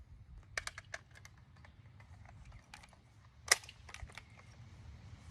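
Rifle shots from an AR-15-style rifle loaded with IMI ammunition, fired downrange at a shooting range: scattered faint, sharp cracks, with one louder report midway, heard from a distance with no talk.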